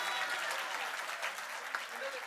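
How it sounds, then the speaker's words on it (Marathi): Applause fills a Paknirnay 2024 prize-giving ceremony, a dense, steady wash of clapping from a large audience that holds evenly throughout at a moderate distance. "त्याच्यासाठी एकदा जोरदार टाळ्या होते."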